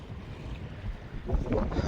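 Wind buffets a small fishing boat at sea, a rough, close rumbling gust across the microphone that swells louder toward the end, with a brief voice underneath.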